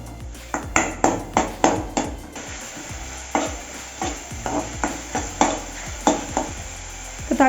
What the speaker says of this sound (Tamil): இப்போ இதே கடையில் லைட்டாக எண்ணெய் சூடானதும் நம்ம கட் பண்ணி வச்சுருக்க தக்காளி வணக்கி விட்டுடலாம்.